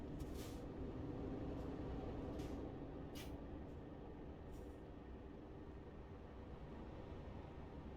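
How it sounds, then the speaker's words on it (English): A heavy truck in a truck simulator game idles with a steady low rumble while a few short hisses, like air brakes releasing, sound as it begins to roll off. The sound is quiet, with no talk. "The truck's gonna start moving."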